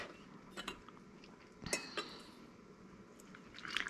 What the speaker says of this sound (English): I'm kind of stirring this before I scoop it